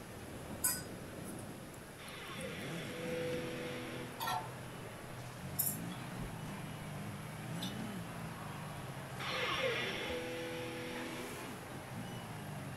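Cars drag race in the video game Forza Horizon 5, with engines revving and whining through repeated gear shifts, faint under game noise, plus a few sharp clinks.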